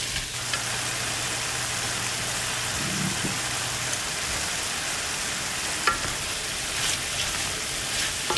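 Pork frying in lard in a hot pan, a steady close sizzle that holds evenly throughout, with a few faint stirring clinks and no talk.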